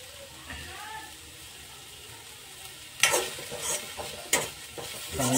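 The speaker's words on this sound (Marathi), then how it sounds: "चांगला असा मस्त भाजून घ्यायचा कांदा" Finely chopped onion frying in a pan for a Kolhapuri chicken dish, a faint low sizzle at first, then louder scraping stirs with sharp bursts of hissing in the second half.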